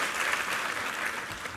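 A church congregation applauds together at a Sunday worship service, with dense, steady clapping close by that fills the short moment without pause.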